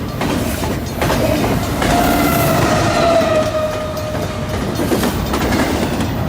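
A 151-car freight train rumbles past with a steady loud roar, clattering wheels and a faint squeal, no voices.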